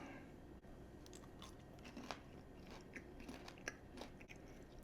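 Close biting and chewing of crispy air-fried tofu, with soft crunches and moist mastication sounds spread across the clip and a sharper bite near the end, quiet and with no talking.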